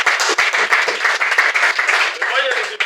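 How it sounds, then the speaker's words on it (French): A group of learners claps in a short round of applause, the individual claps fairly distinct and uneven, with a voice speaking over the end. "On peut applaudir quand même."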